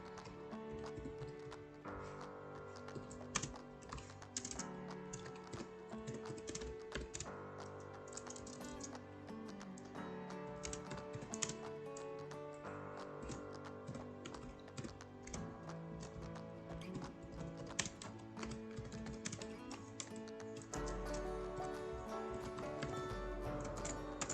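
Someone types on a computer keyboard while writing Python code, with quick irregular clicks all the way through under quiet background music.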